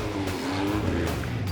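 Race cars launch off the start line in a close trackside race, their engines a loud, continuous roar with a deep rumbling drone that holds steady from start to end.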